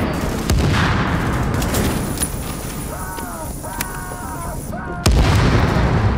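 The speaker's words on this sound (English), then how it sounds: "One of my favorite things to do is shoot the cleaners in their flamethrower tanks. Watch them try to grab it and then explode." A cleaner's flamethrower tank exploding amid gunfire in The Division, loud sustained booming and rumbling blasts with sharp gunshot cracks, then a fresh heavy burst near the end.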